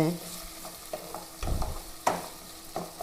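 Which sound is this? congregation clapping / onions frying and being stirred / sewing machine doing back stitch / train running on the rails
onions frying and being stirred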